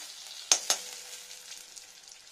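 Chilli powder frying in ghee gives a faint, steady crackle near the pan, with two sharp taps from a spoon or pan early on.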